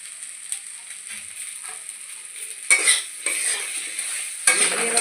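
Vegetables and spices being sautéed for a Bengali katla fish curry, with a steady sizzle under sharp scraping stirs of a spoon against the pan, three louder bursts of stirring standing out near the end.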